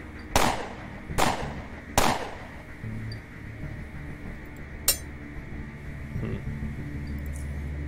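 Flashbang grenades going off in the game UnderRail: three sharp cracking bangs about a second apart, then a quieter stretch with a later metallic snap, over a low steady background hum.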